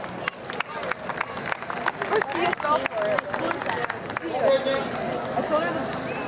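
A crowd applauds a singer at a Ukrainian Independence Day celebration in Toronto. Dense clapping fills the first few seconds, then fades into crowd murmur, with people talking throughout.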